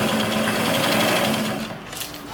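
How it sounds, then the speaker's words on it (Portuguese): A sewing machine runs a straight stitch along a hem, a close, continuous mechanical whir that eases off slightly near the end, with no talking. "vai fazer nossa bainha e já vai costurar. A gente vai usar o ponto reto."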